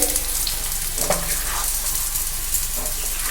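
Chicken curry cooks in a pan with spices, giving a loud, steady, close sizzle and hiss broken by faint stirring scrapes, with no talking.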